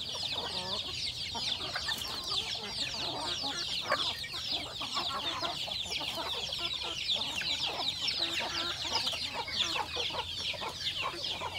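A flock of chickens clucks continuously nearby, a busy chorus of overlapping clucks and squawks with no pauses.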